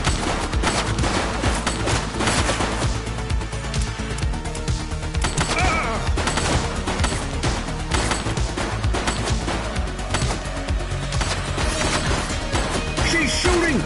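Dense, continuous gunfire and bursts of shots ring out in a police shootout in The Precinct video game, loud and chaotic, with crashes and impacts mixed in throughout.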